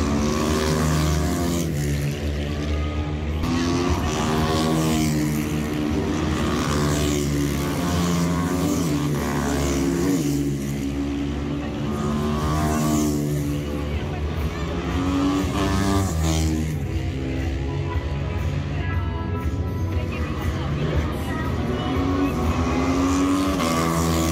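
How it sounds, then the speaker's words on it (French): Loud, continuous supermoto motorcycle engines roaring at high revs during a race at the 2022 Superbiker de Mettet, pitch rising and falling as bikes accelerate down a straight, with a faint voice underneath. "Vous avez des motos qui peuvent être très rapides, comme vous voyez ici dans la ligne droite."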